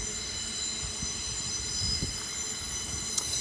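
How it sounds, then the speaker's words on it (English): A train rolls past close by, its wheels squealing in sustained high-pitched metallic tones over a low rumble and faint rhythmic thumps from the rails. "the train's going by here"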